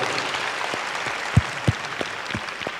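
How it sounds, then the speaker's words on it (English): A graduation audience at a tech skills program ceremony claps for its graduates with a light spread of applause, a few sharper individual claps standing out near the middle. "Can you clap for our heroes?"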